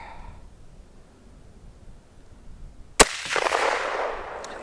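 A single sharp crack from a Mosin Nagant rifle shot outdoors after a quiet stretch, followed by a rolling echo and rustling noise.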